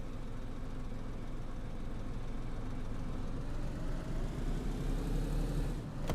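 A car engine idles steadily in DayZ on the Livonia map, a faint, continuous low rumble with no talking.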